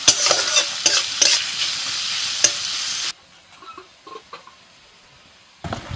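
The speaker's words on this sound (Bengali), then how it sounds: "ফোড়ন হয়ে গেছে, দিয়ে দিচ্ছি পেঁয়াজ কুচি।" Chopped onions with salt hit hot oil tempered with black mustard seeds, giving a loud close sizzle and stirring for about three seconds, then near quiet with faint clicks before the sizzle returns at the end.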